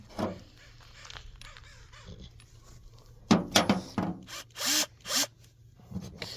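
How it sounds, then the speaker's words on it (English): Grandpa's power drill, used while hooking up backup lights on a 93 Chevy, gives several short loud whirring bursts after a quieter stretch of handling noise. "Got me a fancy drill here. My grandpa's drill."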